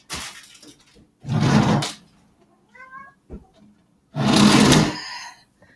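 A domestic cat meows a few times, with short thin cries between loud bursts of rustling noise and no talking.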